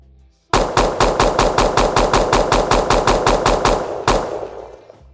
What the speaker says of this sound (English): Sequential shooting mode means we keep pressing the same left mouse button and the pistol fire one after another.